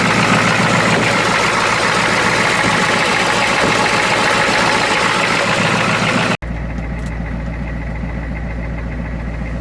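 An old diesel engine, left abandoned for over 20 years, runs loud and close with a rough, knocking idle that cuts off sharply near the end into a lower, steadier hum.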